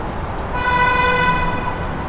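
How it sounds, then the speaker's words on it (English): Car horns honk at an SUV turning left illegally on a downtown Toronto waterfront street, one sustained bright blare lasting over a second, close and loud over steady traffic rumble. "that SUV was illegally turning left there, hence the honks"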